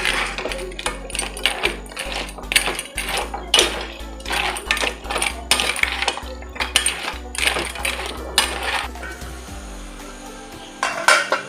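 A spoon stirs crab sukka in a pan, making repeated metallic scrapes and clinks at an uneven rhythm, close and clear, with a low steady hum underneath.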